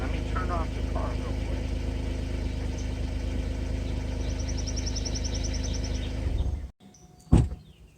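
A car engine idles steadily and close by while a Casita travel trailer is hitched at a campground, holding a low, even hum for several seconds before it is switched off. A short thump and rattle follow in the quiet.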